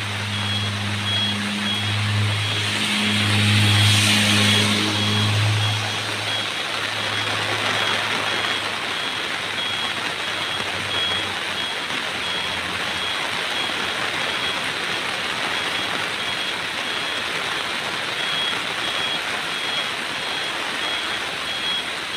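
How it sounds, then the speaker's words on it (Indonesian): A Fuso Euro 4 truck reverses on a rain-slick road, its reversing alarm beeping in a steady repeating pattern for the first several seconds over engine noise. Rain hiss continues after the beeps stop, with no talk. "mundur lagi teman-teman mundur"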